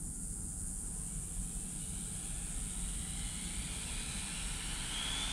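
An ARRMA Limitless RC car makes a full-throttle speed pass, its high-pitched motor whine running loud and steady throughout with constant broadband rushing, no talking over it.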